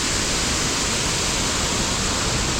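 A waterfall roars steadily and close by, a dense, unbroken rush of falling water that holds the same level throughout with no voices.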